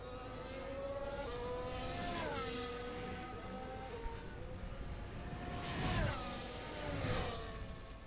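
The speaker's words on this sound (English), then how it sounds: "As the first lap from Nathaniel, Xiaolei and George Gonzalez start" Racing cars lapping a rain-soaked Bahrain track in an F1 video game, engines revving high and shifting through gears, with cars sweeping past in overlapping passes at moderate volume.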